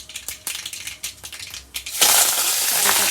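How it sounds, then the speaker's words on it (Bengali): Dried red chillies, bay leaf and black mustard seeds drop into hot oil in a heated pan: a few seconds of scattered crackles and pops, then a sudden, loud, steady hissing sizzle. "এর মধ্যে আমি শুকনো লঙ্কা তেজপাতা আর কালো সর্ষে ফোড়ন দিলাম"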